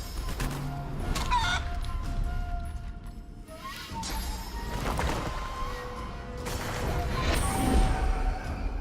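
Chicken clucks and squawks in a fantasy role-playing game after a character is polymorphed into a chicken, short bursts layered over busy combat effects and game music.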